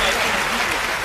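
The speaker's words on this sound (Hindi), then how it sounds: "मुझे बेबात पे एक बार तालियां बजाकर बता दीजिए कि आप सुन रहे हैं" Brief burst of audience clapping at a Hindi comic poetry recital, dense and steady for about a second with a voice faintly underneath.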